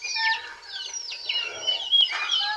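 Farm chickens clucking and calling, several overlapping high squawks and chirps in quick succession, close and fairly loud, with no talk.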